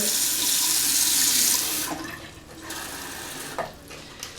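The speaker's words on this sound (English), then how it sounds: "And so just pour some of that in. You want to use warm water." Warm water runs steadily from a tap for a sea salt bath for cleaning stretched ears, a loud close rushing stream that cuts off after about two seconds, followed by a few faint splashes and drips.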